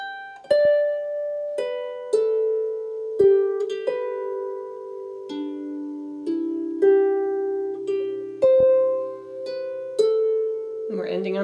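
A harp plucks the folk tune Jock O'Hazeldean slowly, one clear note at a time with ringing decay, alone and close.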